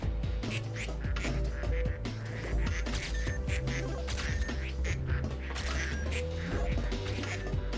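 Ducks quack over and over in a busy factory-building video game scene, the calls layered over dense mechanical and musical background sound at a steady level.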